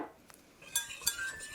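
Cocoa powder is stirred into melted butter, with a few faint, light clinks and scrapes of a utensil against a bowl in a quiet setting.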